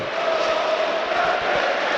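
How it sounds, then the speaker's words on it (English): Football crowd at St James's Park during Newcastle United v Brighton in the FA Cup, a dense, continuous roar of cheering and chanting filling a short stretch, loud and even throughout. "It's got the crowd going again here at St James's Park"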